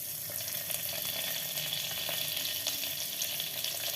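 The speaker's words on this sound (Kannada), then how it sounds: "ಅದು ಟೇಸ್ಟ್ ಚೆನ್ನಾಗಿ ಬರಲಿ ಅಂತ ಸ್ವಲ್ಪ ಇಲ್ಲಿ ಒಗ್ಗರಣೆ ಸ್ವಲ್ಪ ಹಾಕೋತಾ ಇದ್ದೀನಿ" Crushed garlic, curry leaves and tempering spices sizzling steadily in hot oil in a pan for sambar, a dense, even crackle with no talking.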